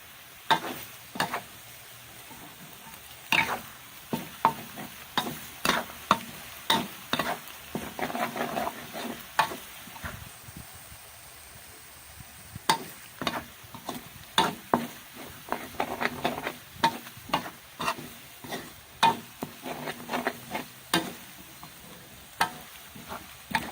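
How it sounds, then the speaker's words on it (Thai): Garlic being deep-fried in a pan over medium heat sizzles steadily while a utensil scrapes and stirs in irregular bursts, close and clear throughout, with no voices. "การเจียวกระเทียมนี่ไฟสำคัญมากนะคะ"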